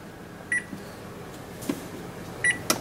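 An oven control panel beeping as it is set, two short, clear electronic beeps about two seconds apart, with faint clicks and kitchen background in between.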